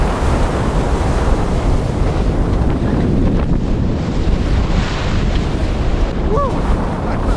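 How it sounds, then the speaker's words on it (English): Sharp ocean waves and strong wind during a heavy North Atlantic crossing by sailboat, loud and continuous with roaring gusts buffeting the microphone and surf washing close by, no voices heard. "Sharp waves,"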